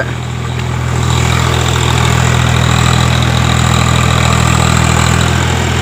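A tractor engine idles steadily in a farm field, a loud, close, continuous low rumble with a faint knocking texture and no voices.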